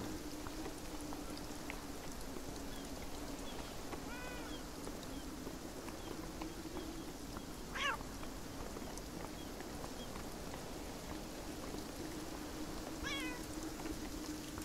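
Cat meowing in the video game Beyond Eyes, a few short faint meows spread out over a quiet background with a low steady hum.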